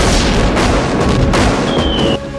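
A loud, sustained wartime explosion rumbles from a warplane attack on a ship, with continuous roaring blast noise and debris-like crackle and a brief high whine near the end, in a 1997 film.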